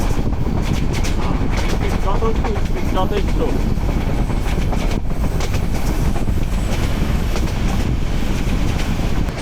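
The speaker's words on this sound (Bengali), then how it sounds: "ট্রেন স্লো হয়ে যাচ্ছে, ভৈরব বাজার জংশন চলে আসছে।" Passenger train approaching Bhairab Bazar junction in Bangladesh, a loud, constant rumble of wheels and carriages with clattering and wind buffeting, while a person speaks briefly over the noise.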